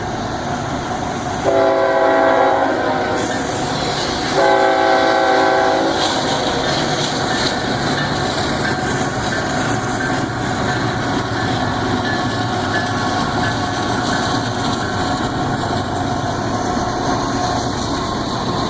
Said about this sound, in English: And here comes another train.